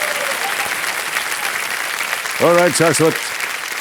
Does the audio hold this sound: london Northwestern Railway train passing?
no